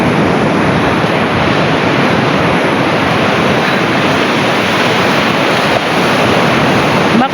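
Ocean surf on Casapsapan Beach in Casiguran, Aurora rushes in a loud, continuous roar close by, with wind buffeting the microphone and no voices.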